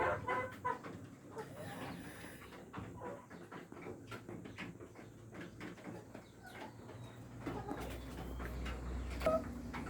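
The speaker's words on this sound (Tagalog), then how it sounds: "Yan yung mga breeder natin na Rhode Island," Rhode Island breeder chickens clucking inside a farm breeder cage, with repeated close and scattered clucks and rustling over a low background rumble, no talking.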